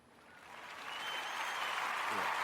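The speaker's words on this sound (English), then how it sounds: "an applause started" Applause swells gradually from quiet to a fuller, sustained wash of many hands clapping, moderately distant and without voices.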